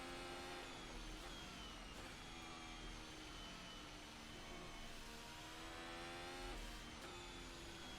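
A 2021 Formula 1 car's power unit lapping the Nordschleife in a VR racing game, a steady, loud, high-pitched engine whine with shifting harmonics and brief gear-change dips, continuous throughout with no talk.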